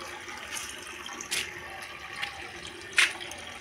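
Tap water runs steadily into a bucket, a continuous hiss and splash with a few brief brighter splashes.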